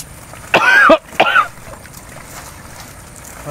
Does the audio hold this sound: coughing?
yes